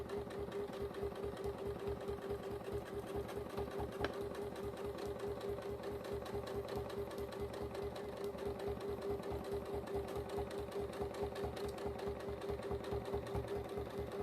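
A sewing machine stitches quilt fabric in a fast, even, continuous mechanical rhythm that runs close and steady throughout with no pauses.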